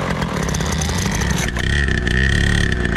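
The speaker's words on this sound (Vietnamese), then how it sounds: "Mình giật máy thử coi." A motorbike engine is pull-started after refuelling, a loud rough mechanical clatter that shifts into a steadier running engine note partway through.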